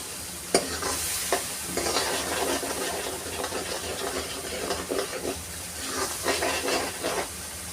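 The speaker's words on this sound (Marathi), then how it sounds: "आता हे वाटण आपल्याला तेल सुटेपर्यंत असं परतून घ्यायचं आहे." Ground green masala paste sizzles and fries in oil for a green pea usal while being stirred, giving a steady hiss with a sharp clack and repeated scraping strokes, no talk.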